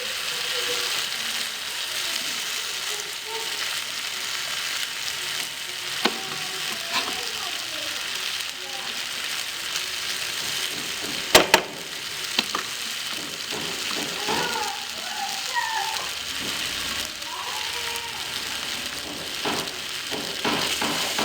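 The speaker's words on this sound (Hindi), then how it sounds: "अच्छी तरह से हमने इसको मिक्स कर लिया" Cooked macaroni gets stirred together with mayonnaise in a pan: soft, irregular scraping and squelching from the spoon, quiet and close, with a few sharper clicks against the pan.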